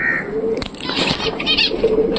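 Pigeons coo softly inside a loft in low, rolling calls, with brief rustles and a faint flutter among them.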